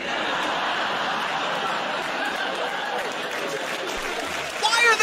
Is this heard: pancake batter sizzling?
no